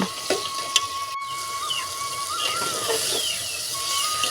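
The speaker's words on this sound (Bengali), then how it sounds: "মাংসটা অনেকক্ষণ ধরে কষিয়ে নিতে হবে" Chicken meat sautéing in a pot sizzles softly and continuously, with scattered light stirring scrapes and a few faint high whistling tones in the room.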